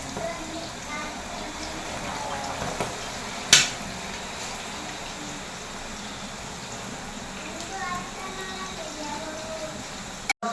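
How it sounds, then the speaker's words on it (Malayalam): Jackfruit pieces frying in boiling mill-pressed coconut oil with crushed fresh turmeric, giving a steady, even bubbling sizzle that holds throughout, with one brief sharp clink partway through. "മില്ലിന്ന് വാങ്ങിച്ച വെളിച്ചെണ്ണയിലാട്ടോ നമ്മുടെ ചക്ക വറക്കണത്."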